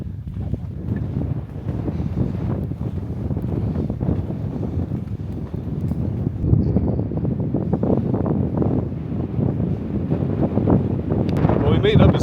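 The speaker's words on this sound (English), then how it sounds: "the wind out here is just brutal and it's getting in everything" Strong wind buffets the microphone outdoors in Colorado's San Luis Valley, a constant loud low rumbling roar with gusty swells throughout.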